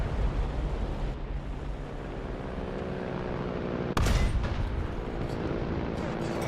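A Panzer IV tank cannon fires in a video game, a single heavy blast landing partway through over a constant low engine rumble and battle noise, close and booming, with no voices.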